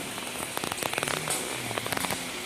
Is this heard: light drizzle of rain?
yes